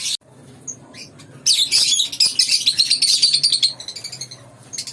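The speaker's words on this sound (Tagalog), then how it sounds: "tungkol sa mga lovebirds na Alp1" Lovebirds of a cage flock chirp nearby, starting with scattered tweets and rising into a loud, continuous burst of shrill squawky calls before easing into softer chirps.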